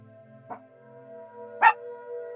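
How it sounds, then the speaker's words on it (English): Two household dogs barking indoors, a short bark then a louder, sharper one about a second later, over a low steady background hum. "Alayla's 2 dogs are the ones that are barking"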